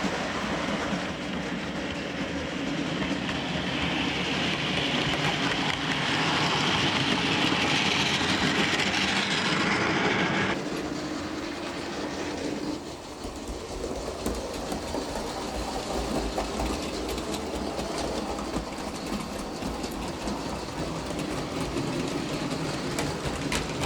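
An Accurascale Class 31 model locomotive runs steadily along its track with a continuous whirring motor hum and light rail clatter, close and alone, shifting slightly in tone partway through.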